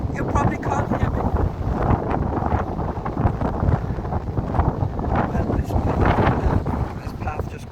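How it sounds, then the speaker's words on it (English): Strong wind buffets the microphone on an open beach path, a loud continuous rumbling roar that gusts and swells throughout and drowns out any other detail. "Can you tell how windy it is?"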